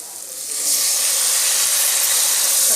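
Tomatoes are dropped into hot oil with frying ginger garlic paste and curry leaves for a Tamil chicken kulambu, bursting into a loud, steady, close sizzle that swells after a moment and keeps hissing.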